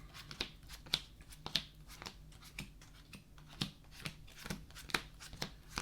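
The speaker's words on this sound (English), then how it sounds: "we're going to start with a good old shuffle to the deck" A deck of Yu-Gi-Oh! cards is shuffled by hand, quiet rhythmic riffling and slapping with regular sharp snaps about every half second, close and faint.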